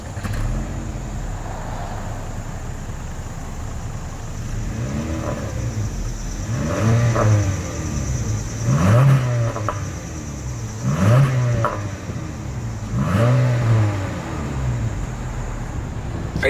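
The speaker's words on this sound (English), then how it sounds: "As always, here is that exhaust clip." Exhaust of a 2026 Honda Civic sport trim revving: a steady idle broken by four or five rising revs, each sweeping up and dropping back at regular intervals, close and loud with no talk.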